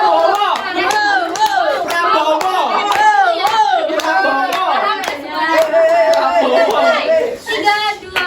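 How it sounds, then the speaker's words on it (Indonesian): A classroom of pupils claps the 'tepuk wow' rhythm together, quick bursts of hand claps layered under near, lively children's voices chanting along throughout. "Ibu akan mencontohkan tepuk wow"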